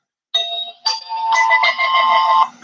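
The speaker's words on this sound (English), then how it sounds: "forgot to mute that phone" A phone ringtone rings out in a lecture room, a bright electronic melody of several tonal notes in quick succession, loud and clear against near silence.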